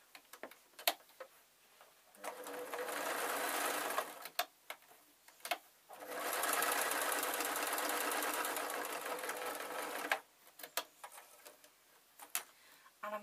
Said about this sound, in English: I've got my sewing machine. I'm going to stick with the white thread throughout. I'm going to sew up the back.